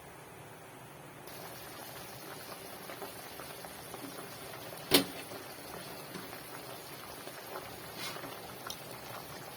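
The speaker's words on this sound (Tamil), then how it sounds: "கொதிச்சிருச்சு தண்ணியை வடிச்சிட்டு அரிசியை சேர்த்துக்கலாம் இப்போ" Salted water boils in a pot on a home stove ready for rice, a faint, steady bubbling hiss with one brief sharp clink partway through.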